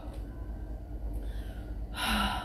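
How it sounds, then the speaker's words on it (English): A young child takes a big, audible breath, a short gasping inhale near the end after a quiet stretch, close and fairly loud over low background noise. "Do you want to take a big breath?"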